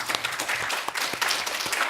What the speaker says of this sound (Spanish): la vamos a recibir con un fuerte aplauso